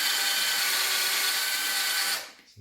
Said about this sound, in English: there's no real negative in just drilling a pilot hole